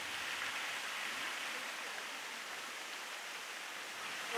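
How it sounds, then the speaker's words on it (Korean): Guseong waterfall, one of Chuncheon's three great falls, runs swollen after rain, giving a steady, faint broadband rush of falling water that stays even throughout with no voices. "리듬을 타고 노래하듯 경쾌한 소리로 맞이해주는 구성폭포는 춘천 3대"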